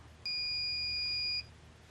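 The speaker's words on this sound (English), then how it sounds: "Hold the start button for 5 seconds until the alarm sounds." A MotorVac TransTech IV fluid service unit sounds its alarm, a single steady electronic beep held for just over a second, clear and close against a quiet background.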